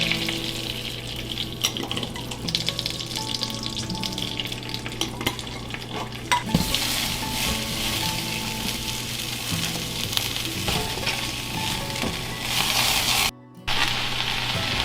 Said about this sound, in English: So let's get this cabbage cooking.